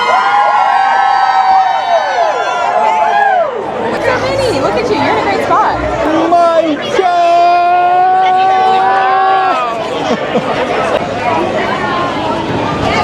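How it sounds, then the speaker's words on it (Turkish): A crowd of fans outside a musical in Brooklyn, New York screams and shrieks while waiting for the performers, loud, sustained high-pitched cries and whoops over constant chatter, with voices talking nearby. "Çığlık çığlığa herkes."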